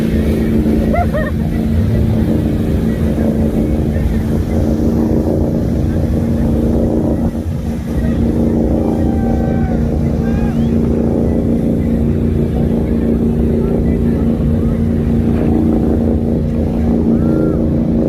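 Motorboat engine on a lake, droning steadily and loud throughout while a wakeboarder is towed behind, with voices talking faintly over the constant hum.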